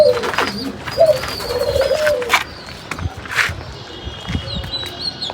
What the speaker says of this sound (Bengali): এই যে আমার কবুতরটা এই কবুতরটা আমি আরও চার বছর আগে কিনে নিয়ে আসছিলাম